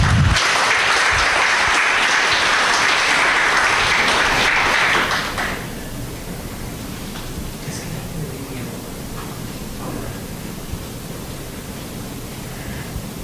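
A crowd at a Reston tech talk claps loudly for about five seconds after a presenter is introduced, then the applause fades into quiet room noise with scattered murmurs.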